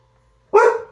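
A single loud, close dog bark bursts out after a quiet stretch and then fades away, with no talking over it.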